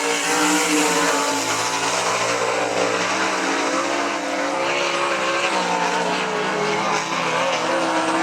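A sprint car from the Great Lakes Super Sprints runs a qualifying lap at I-96 Speedway, its engine a loud, sustained, high-revving roar that holds steady for the whole stretch with slight pitch shifts.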